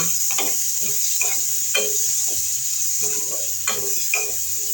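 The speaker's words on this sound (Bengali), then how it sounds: "কাঁচামরিচ পেঁয়াজ আর রসুনগুলো ভালোভাবে তেলের মধ্যে ভেজে নেব" Green chilies, onion and garlic sizzle in hot oil with a steady hiss, broken by repeated scraping strokes of a spoon stirring the pan; no talking.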